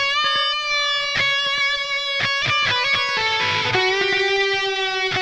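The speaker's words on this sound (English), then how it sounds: "Our lead 2 or solo 2 channel sounds like this." A distorted electric guitar plays a sustained lead solo tone through a Line 6 Helix amp modeler, with bent, singing notes and some quick picked phrases, loud and alone.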